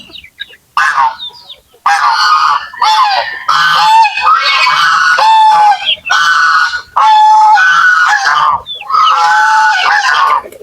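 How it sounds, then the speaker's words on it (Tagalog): Native domestic geese honk loudly and close by in a long series of harsh, nasal calls with short pauses between bursts. "Ang gansa natin mga idol."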